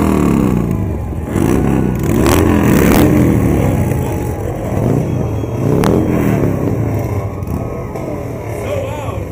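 Motorcycles from a club rev their engines in a pride parade in Las Vegas, with loud rumbling and repeated throttle blips up close over crowd noise.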